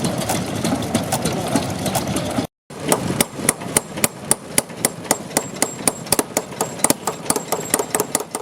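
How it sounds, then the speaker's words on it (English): A German MWM RH18Z two-cylinder stationary diesel engine from the 1930s–1950s starts cold at a heritage engine gathering. After a brief gap it settles into loud, close, evenly spaced knocking firing beats, about three per second. "a highly robust stationary diesel engine, manufactured in Germany between the 1930s and 1950s"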